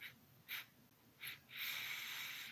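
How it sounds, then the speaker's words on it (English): A person sniffs the air through the nose in two short, quiet sniffs, then draws in one long, steady sniff, close and soft with no talking. "just kind of sniff the air a little bit"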